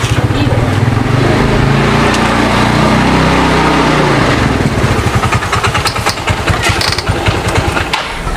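A motorcycle engine runs loud and close with a rough, steady drone, then fades away around midway as it stalls, leaving quieter scuffs and handling noises.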